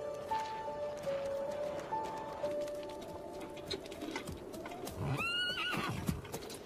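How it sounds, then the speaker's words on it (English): Near the end a horse gives a sharp whinny over light hoof clopping, with faint birds cooing in a quiet rural outdoor background. "I'll hitch up the horse."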